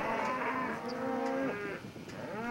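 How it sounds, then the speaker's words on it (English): Cows mooing on a road in New Zealand, several overlapping drawn-out lowing calls at moderate distance over faint outdoor background noise. "We drove a bit farther, then encountered more cows in the road."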